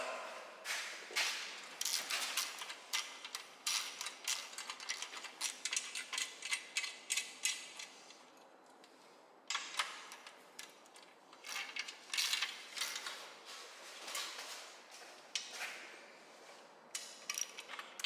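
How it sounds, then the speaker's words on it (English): Bolts being tightened on a wall-mounted TV bracket, heard as quick repeated ratcheting clicks in bursts with a short pause midway, fairly close and moderately loud, with no talking. "Now we tighten up our bolts."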